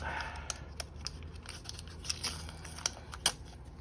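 A part is ripped out of a car during a parking brake install. There is a short burst of close, sharp snapping clicks and scrapes over a low background hum.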